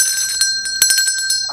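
A bell rung a few times in quick strikes, each ringing on with bright, sustained metallic tones, close and fairly loud over a steady background.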